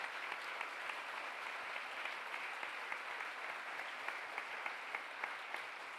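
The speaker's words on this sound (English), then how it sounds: "It was necessary to give you a clap" Steady applause from a gathering at a Focolare Movement link-up, after the movement's president and new co-president are introduced. Dense, even clapping carries on throughout without breaks.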